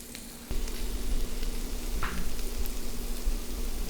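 Bread for a patty melt sizzles on a Blackstone E-Series 22-inch griddle, a dense, steady frying hiss that jumps louder as it hits the hot surface and then holds constant, close up.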